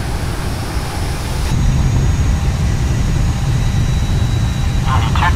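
Airliner reverse thrust roaring on landing rollout in the Prepar3D flight simulator, a steady loud broadband rumble that swells about a second in and holds, with a voice talking over it.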